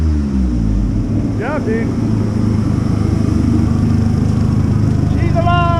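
A 2008 Smart ForTwo with a freshly installed engine revs right after its first start, a loud, close, steady mechanical drone with voices talking over it.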